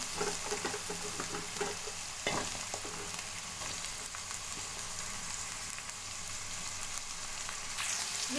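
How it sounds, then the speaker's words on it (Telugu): Drumstick (moringa pod) pieces fry in a pan for tomato rasam, giving a steady close hiss and crackle with a few light clacks of movement, no voices. "ఇందులో ములంకాడ ముక్కలను కూడా వేసుకొని వేపుకోవాలి"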